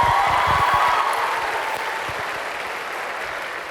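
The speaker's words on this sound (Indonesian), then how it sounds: "Kita berikan aplaus untuk kita semua ya." A university hall audience at UNAS breaks into applause at a TV talk-show taping, a thick even clatter of hands that fades slightly toward the end, with no speech over it.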